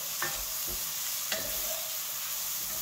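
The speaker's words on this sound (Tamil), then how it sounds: "ஸோ இதை வந்து நல்லா இந்த மாதிரி ஃபோல்டு பண்ணி வதக்குங்க." Peeled carrots are stir-fried over high flame in a pan, giving a steady sizzle broken by a few sharp scraping strokes as they are folded and tossed, with no talking.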